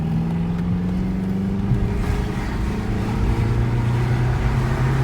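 A Volkswagen Passat W8 engine pulls steadily under acceleration, a continuous droning hum with slowly rising pitch heard from inside the car, loud and unbroken.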